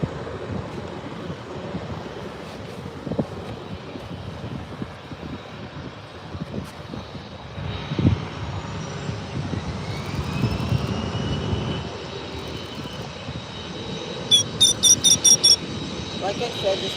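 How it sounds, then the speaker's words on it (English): A Contour Airlines Embraer 145 jet bound for St. Martin rumbles at an airport as engine noise and wind build, with a rising whine and some crackling toward the end. "3206 heading to St. Martin on the Embraer 145."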